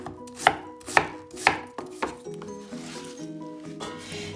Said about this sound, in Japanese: ザクザクと1キロ切りましたので